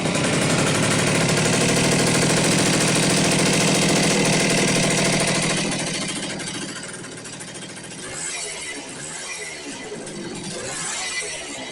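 A small Kawasaki Trailboss G4TR motorcycle engine runs loud and close, a rough steady buzz for about six seconds that then drops to a lower, uneven sputter as the float bowl's fuel runs out.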